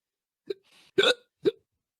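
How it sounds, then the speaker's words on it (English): Three abrupt human hiccups spaced about half a second apart, close and fairly loud in near silence, with a faint breathy sound between the first two. "then you'll never have hiccups again"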